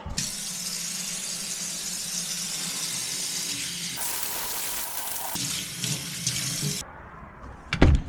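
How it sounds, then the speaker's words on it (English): Hands are washed under a running water tap in a shop after cleaning trash bins: a loud, steady close rush of water hissing into a sink, changing tone as the hands move through the stream, then the tap shuts off near the end. "I'm gonna go wash my hands"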